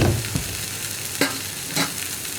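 Coriander powder being stirred into a frying gravy for green peas masala on a low flame: a quiet sizzle with a few distinct scraping stirs, no talking.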